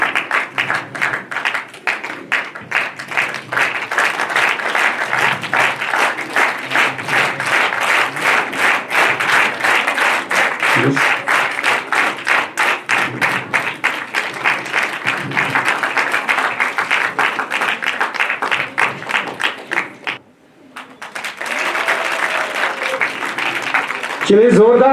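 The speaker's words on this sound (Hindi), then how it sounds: "चलिए जोरदार तालियां" Loud, sustained audience applause at a two-day career seminar in Leh and Kargil, dense clapping running for about twenty seconds, a brief dip near the end before it swells again.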